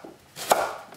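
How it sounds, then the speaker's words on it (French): A knife chopping leeks into small pieces on a board, a single sharp close tap amid faint kitchen rustle, brief and isolated with no speech. "tronçonner sur les petits tronçons"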